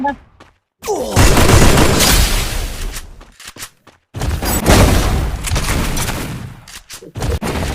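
A grenade blast and heavy gunfire in the Free Fire battle royale game come in loud, dense bursts separated by brief near-silent gaps, with a player talking over the action.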